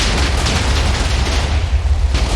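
A TNT explosion in Minecraft, running on an old laptop server, gives a loud, rumbling game boom that fills the whole moment with sustained crackling blast noise and no talking.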